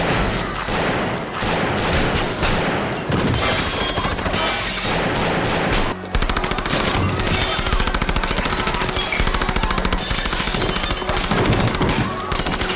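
Dense, continuous gunfire from a shootout in the 1983 film Scarface, rapid automatic bursts layered with crashes and booms, loud and unbroken throughout, with a brief dip midway.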